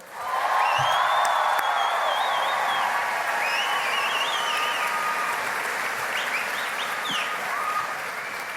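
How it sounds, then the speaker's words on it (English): Loud, sustained applause from a large crowd at a political rally in Greeley, with scattered whoops and cheers, continuing steadily for several seconds. "can we get another round of applause for Victoria?"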